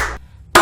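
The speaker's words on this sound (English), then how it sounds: "I dug the whole clapping thing" Two sharp claps from the horror film The Conjuring, a short burst then a brief silence and a second louder clap, close and dry with no voices.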